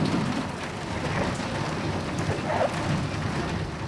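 Heavy rain falls in Nicaragua, a dense, steady hiss of drops pattering on surfaces, with a low rumble beneath and no voices.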